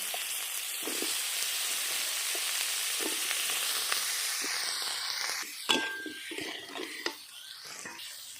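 Eggplant pieces fry in a pan with turmeric and salt for an egg-eggplant curry, a constant close sizzle with occasional stirring scrapes and clinks toward the end.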